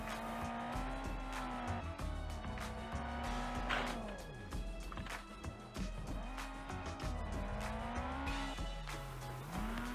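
Phoenix RS1 car sliding in the Overspeed Championship racing video game: a continuous whining engine with rising and falling revs, shifting pitch and repeated tire squeal through the slide, steady and close.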